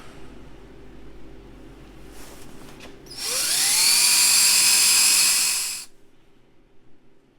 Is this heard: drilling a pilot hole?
yes